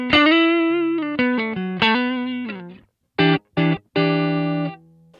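Electric guitar played through a Kemper amp with a green screen overdrive and no compression, a run of sustained and sliding single notes followed by three short choppy stabs and a final held note, loud and alone.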